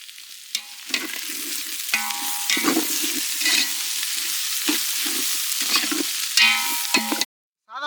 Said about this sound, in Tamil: மிளகாய்த்தூள், கரம் மசாலா சேர்த்துக்கலாம்.